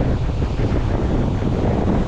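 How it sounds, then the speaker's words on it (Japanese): Strong coastal wind buffeting the microphone by a rough sea with waves, a loud steady low roar and rumble without pause. "風が結構やっぱり強くて、"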